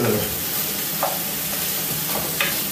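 Bacon lardons frying in a pan at a snowshoe hike camp, giving a steady close sizzle with a few faint clinks of stirring, and no talking.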